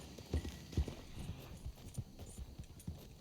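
A video-game horse gallops with a quick, repeating thud of hooves, low and fairly close, running on with no talk over it.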